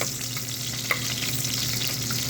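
Onions fry with garlic in a pan while being stirred, a dense continuous sizzle with occasional spoon clinks and scrapes, close and steady without talk.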